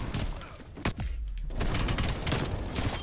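Gunfire in a multiplayer shooter video game, a dense burst of shots that rolls on for about three seconds, broken only by a short quieter gap near the middle.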